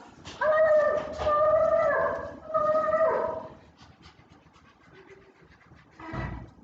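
A voice imitates a dog with a few high, whiny yelps and panting sounds in short bursts, then trails off before a brief final huff.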